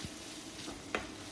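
Mutton fat fries in a pan, giving a steady broadband sizzle with soft crackles and a brief sharper pop, heard close and at low level.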